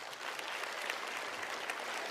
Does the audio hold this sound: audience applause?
yes